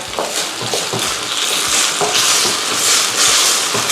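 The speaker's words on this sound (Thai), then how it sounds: "เส้นใหญ่หอมกระทะ อันนี้ต้องทำนะครับ ผัดสักแป๊บหนึ่งครับ" Wide rice noodles stir-fried in a hot wok give off a steady loud sizzle, with a spatula stirring and scraping in irregular strokes the whole time. No one speaks.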